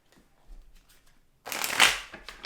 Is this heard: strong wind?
no